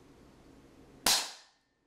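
A pneumatic spear prototype fires once, a single sharp loud hiss-crack of released compressed air that decays within half a second into silence.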